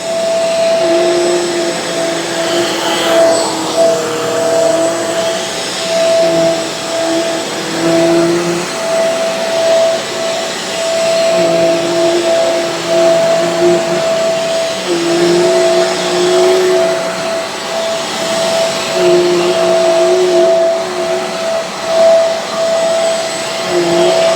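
A Shark Carpet Xpert Hair Pro StainStriker carpet cleaner, model EX30, runs over carpet next to a couch. It makes a loud, steady motor drone with a high whine that pulses as it passes back and forth, and no voices are heard.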